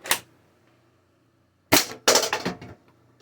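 Nexus Pro X foam dart blaster fires three shots: one sharp pop, a pause, then two more close together, each a loud, near, snappy burst with a short rattling tail.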